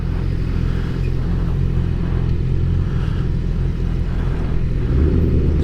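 A motorcycle engine rumbles close and loud with a steady, throaty low drone, slight swells suggesting gentle revving, heard alone without talk.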